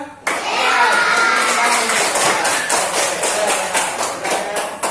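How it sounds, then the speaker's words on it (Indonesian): Schoolchildren in a classroom break into sudden clapping, a bright, busy spatter of small hands with some rhythmic beats, mixed with children's voices and shouts. "Kita kasih tepuk tangan dulu siapa?"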